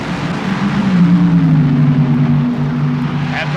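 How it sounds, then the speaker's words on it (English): Two drag racing cars launch off the line at the 1978 NHRA Gatornationals, producing a loud, sustained engine roar whose pitch climbs steadily as they pull away. "Both cars leave the line."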